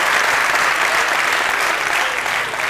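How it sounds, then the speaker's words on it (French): A festival audience claps together in a dense, continuous burst of applause, close and loud, holding steady for a few seconds before easing slightly at the end. "Avec le rythme, applaudissements pour vous-même s'il vous plaît."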